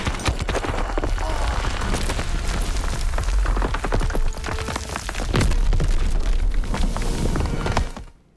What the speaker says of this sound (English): A lot of deep bass booms for explosions.